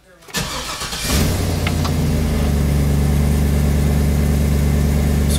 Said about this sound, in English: So I'm gonna start the van.